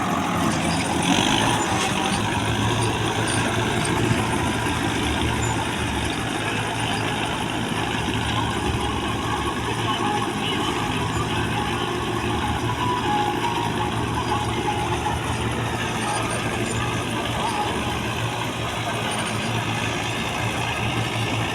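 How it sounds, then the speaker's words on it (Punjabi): A Mahindra Arjun tractor engine runs steadily at idle on a farm during wheat sowing, a constant close, loud diesel rumble with no talking and no change in pace. "ਉਹ ਟਰੈਕਟਰ ਇੱਧਰ ਕਰੀ ਯਾਰਾ"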